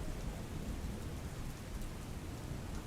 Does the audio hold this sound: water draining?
no